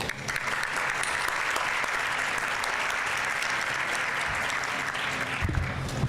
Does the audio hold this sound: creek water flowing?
no